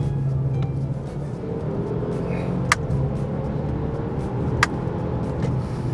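A Mercedes-Benz E300e hybrid's engine hums steadily from inside the cabin, a low drone that holds as the car accelerates on a straight, with a couple of faint clicks.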